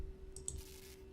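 A faint computer mouse click or two in a quiet room with a steady electrical hum underneath.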